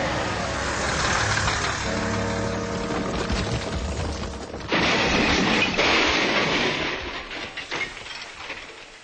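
A quarry lorry loaded with rock rumbles and clatters loudly along a road, with a heavy rattling, banging crash and scraping debris midway before the noise breaks up.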